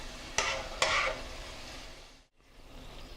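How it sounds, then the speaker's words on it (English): French fries sizzle quietly in hot oil, with two sharp scraping clatters as the basket or spider lifts them out, then a brief hush before a soft frying hiss returns. "Let's go ahead and pull those fries out and get them on my draining rack."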